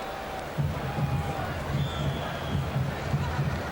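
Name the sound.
football homecoming crowd in the stadium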